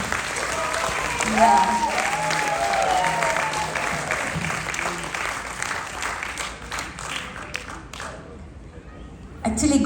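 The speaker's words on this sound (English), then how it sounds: "Let's give her another round of applause" Audience applause at a kindergarten graduation night honoring a teacher, steady and fairly loud for several seconds, with a voice speaking over it before the clapping fades near the end.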